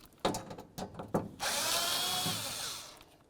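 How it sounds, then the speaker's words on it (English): Cordless power driver spinning out Phillips screws from a door plate on a 2003-08 Toyota Matrix during window regulator work: a few short taps, then a steady close whirring drive lasting over a second. "remove this plate right here using a Phillips head screwdriver."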